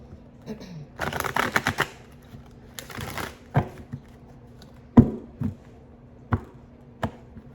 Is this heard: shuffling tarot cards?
yes